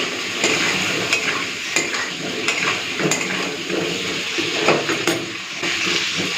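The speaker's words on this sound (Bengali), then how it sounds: "তো তেলের মধ্যে দিয়ে দিলাম কাঠি কচু আর আলু।" Taro stems and potatoes seasoned with salt and turmeric fry in hot oil in a pan, with a loud, close, continuous sizzle and repeated scraping and clinking of a spatula as they are stirred.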